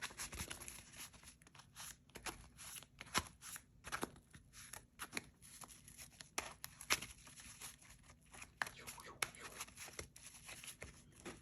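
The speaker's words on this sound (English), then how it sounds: "We will then shuffle this up some more. Shuffle, shuffle, shuffle." A deck of trading cards is shuffled by hand, giving soft, scattered riffling and snapping clicks in irregular bursts at close range and fairly low volume.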